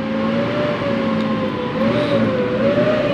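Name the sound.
noisy worn engine pulley bearing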